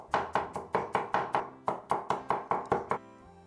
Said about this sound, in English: To prepare the fried garlic, chop 30 grams of garlic.